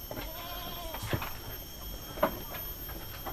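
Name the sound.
goats bleating at a goat fattening farm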